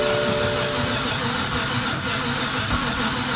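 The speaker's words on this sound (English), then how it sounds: "let's try to crank it" A flood-damaged 2008-era E60 BMW 528xi engine cranking over without catching, a steady mechanical churn with a low rumble throughout, moderately quiet and heard alone.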